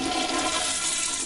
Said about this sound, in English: I suddenly heard the toilet next to me flush.